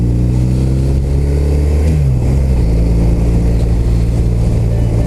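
A 2015 BMW R1200RT LC motorcycle fitted with an Akrapovic exhaust runs with a loud, steady engine drone. Its pitch sinks partway through, and continuous wind rush sits underneath.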